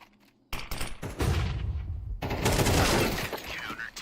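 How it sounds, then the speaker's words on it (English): AK rifle gunfire in the Counter-Strike video game, loud sustained automatic bursts beginning suddenly and continuing almost unbroken, with a commentator's voice underneath. "Kersey with the AK."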